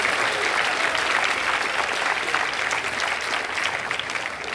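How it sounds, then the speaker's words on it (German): Loud, sustained applause from a crowd at a science slam in Karlsruhe, dense and steady for several seconds with no pauses. "bitte euren Applaus"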